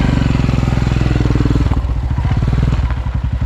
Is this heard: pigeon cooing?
no